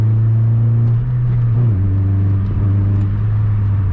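A 2002 Nissan Sentra SE-R Spec V engine drones loudly and close through its exhaust, revving high, a steady low rumble whose pitch shifts slightly as the throttle changes.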